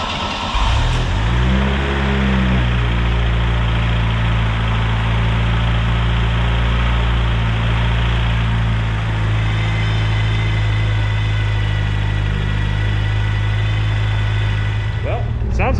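A 2.0L turbo Fiero engine fires up and settles into a loud, steady idle after an oil pump replacement, its low rumbling drone continuing close by for the whole stretch.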